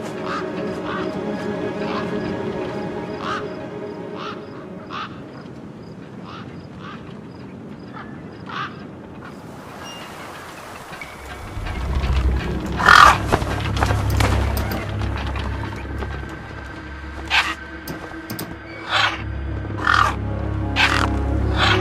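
Scavenger birds caw and squawk in a wasteland in the video game Beyond a Steel Sky, sharp repeated calls at irregular intervals over a low ambient drone that swells midway.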